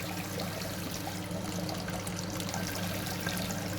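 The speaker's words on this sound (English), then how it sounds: "And sparging with nearly boiling water." Near-boiling sparge water pours steadily during lambic beer brewing, a continuous close splashing trickle with no pauses.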